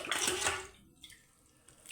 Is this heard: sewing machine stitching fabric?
no